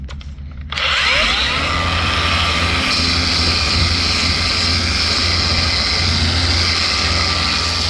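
A rotary sander with a slightly used 80-grit disc, spinning at about 5,500 RPM and pressed against a cured top coat finish. It spins up quickly and then holds a loud, steady, close whine with gritty abrasion throughout.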